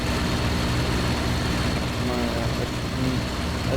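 A fighter plane engine drones loudly and steadily in the IL-2 1946 flight combat game, a constant low roar filling the whole stretch with no pause.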